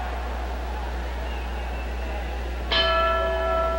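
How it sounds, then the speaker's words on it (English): A boxing ring bell rings once to start the round at a professional fight, a clear ringing strike that lingers and decays under a steady background hum. "There's the bell."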